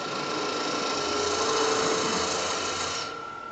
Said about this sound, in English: I just used the wing of the spindle gouge to take out some of this.